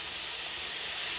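A steady, dense sizzling hiss of a burger patty frying in a hot pan, continuous and close throughout.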